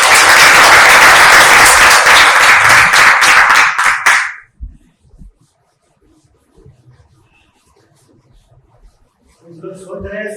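A crowd at a business plan presentation claps loudly and steadily for about four seconds, then the applause cuts off abruptly into near silence, with faint murmurs and a voice returning at the end.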